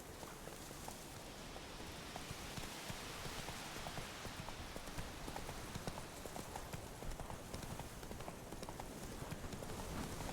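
Steady horse hooves clip-clop at a quick, even pace through a constant noisy wash in the video game The Witcher 3, with no talking.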